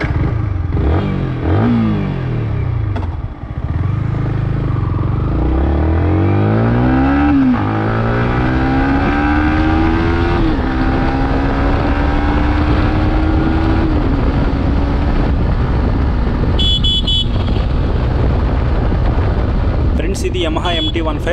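Yamaha MT15 Monster Edition motorcycle engine on a test ride, loud and close, with rising and falling revs sweeping up through the gears, steady drone throughout and brief wind bursts near the end.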